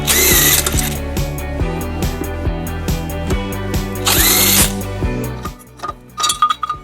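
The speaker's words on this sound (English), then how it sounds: "We'll be using a 14mm socket to remove them." Power tool loosening tow hook bolts with a 14mm socket on a 2003 Nissan Murano: repeated loud whirring bursts with ratcheting clicks, then a brief high-pitched spin, some pauses and a few clinks of metal near the end.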